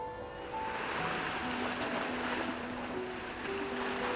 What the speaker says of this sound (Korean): 네 쪽에서 나는 파도 소리는 뭔데?